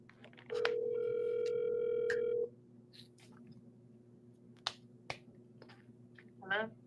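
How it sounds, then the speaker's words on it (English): An outgoing phone call starts with a steady ringback tone that holds for about two seconds. A few sharp clicks and a brief chirp follow, and there is no speech. "I'm calling her right now."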